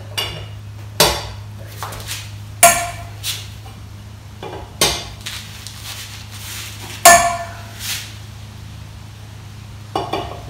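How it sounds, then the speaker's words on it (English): Loosening wheel lug nuts on a Chevy Silverado during a front brake and rotor job, a series of sharp metallic clanks and tool strikes spaced a second or two apart over a steady hum, with brief speech near the end. "I'm going to loosen the lugs."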